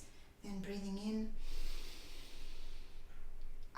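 During a gentle stretching exercise session, a person takes an audible breath, a snort-like nasal intake followed by a long airy exhale that sounds close and clear, with a voice briefly present.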